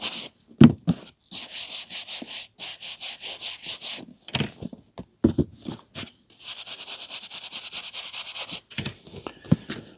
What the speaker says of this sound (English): Now these next books are the ones that we're going to be polishing.